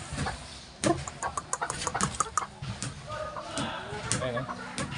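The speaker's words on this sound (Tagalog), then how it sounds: "Ito yung mga inahin ko, dito ko nilagay sa likod ng bahay." Backyard hens cluck close by behind a house, with scattered clucks over a steady mechanical engine hum and a voice speaking in the background.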